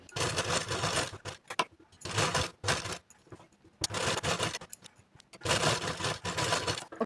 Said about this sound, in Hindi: तो आप देखते जाइए मैं सिलाई लगा रही हूँ।